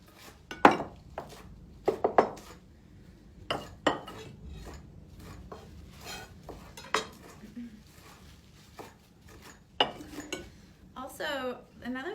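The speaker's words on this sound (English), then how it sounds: "all the herbs we'll put in a big pan to shake it and mix it all together thoroughly" Greens and herbs, including fennel, are shaken and tossed together in a big pan for a Greek pie, giving scattered clattering knocks and soft rustles with quiet gaps, and a brief voice near the end.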